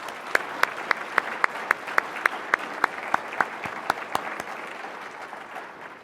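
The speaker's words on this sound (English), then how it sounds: "Let's give them all a round of applause." Applause from an audience at a sustainability summit for local businesses, a crowd clapping steadily with sharp individual claps standing out over a dense wash, fading slightly toward the end.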